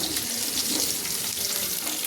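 Drumstick pieces are dropped into potatoes frying in hot oil, producing a steady, dense hiss of sizzling that holds at an even, fairly loud level throughout.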